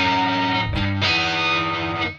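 Death By Audio Space Bender pedal driven by a Crazy Tube Circuits Falcon overdrive, giving a distorted guitar tone with a weird, uncanny comb-filter pitch effect; loud sustained chords with a brief shift midway, no talk.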